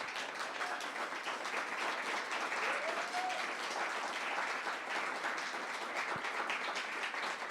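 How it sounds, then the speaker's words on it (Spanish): A church congregation applauds in praise to the Lord Jesus: a steady wash of clapping at moderate level that continues evenly throughout, with a faint voice rising briefly. "dele un aplauso al Señor Jesús"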